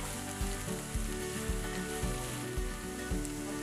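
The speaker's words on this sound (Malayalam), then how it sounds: "ഇതും കൂടി ഇട്ടിട്ട് നമുക്ക് നന്നായിട്ടൊന്ന് വഴറ്റിയെടുക്കാം." Spring onion filling for chicken spring rolls sautéing in a hot pan, a loud continuous sizzle close up with regular stirring strokes roughly every half second.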